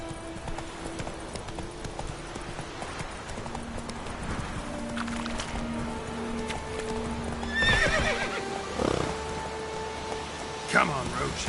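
Roach, a horse in The Witcher 3, gallops with rhythmic clip-clop hoofbeats and gives a loud neigh, heard over rain in the game's background.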